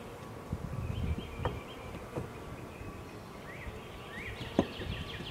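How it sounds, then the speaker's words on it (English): Honey bees from a hive in a tree buzz at a low, steady level while being brushed out, with a few sharper bumps and thuds standing out. "So I'm going to just brush these bees out of here"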